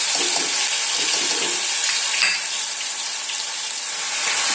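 Ground masala paste for mutton curry hits hot oil in a pan and sizzles in a loud, steady hiss that holds evenly throughout, with no voices.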